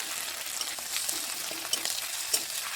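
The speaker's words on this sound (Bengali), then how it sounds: "পেঁয়াজটা একটু লাল হয়ে ভাজার পর আদা রসুনটা দিয়ে একটু নাড়ছি" Steady, loud sizzling of onion with ginger-garlic paste frying in hot oil, with faint scraping from stirring now and then.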